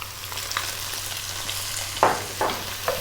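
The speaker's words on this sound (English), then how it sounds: "Let's get that 1 cup of onion, the 1 cup of celery" Onion and celery frying over maximum heat in infused oil for a seafood dish, a constant close sizzle with a few louder hissing flares as the pan is stirred.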